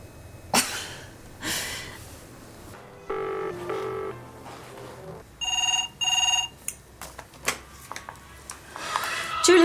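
A telephone in a TV drama scene rings in several short bursts of electronic tone, interspersed with handling clicks and thumps, fairly close and with no talk.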